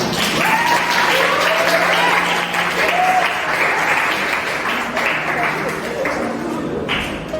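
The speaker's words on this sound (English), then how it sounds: "Please clap for her if you think she's not." An audience at a spoken word poetry event claps loudly and continuously for several seconds, with cheers and whoops rising over the steady applause.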